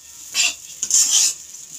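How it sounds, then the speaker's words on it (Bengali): Gobindobhog rice being fried and stirred in a pan, heard as two short bursts of scraping, rustling sizzle a moment apart, fairly close with no talk. "খুব ভালোভাবে গোবিন্দভোগ আতপটাকে ভেজে নেব।"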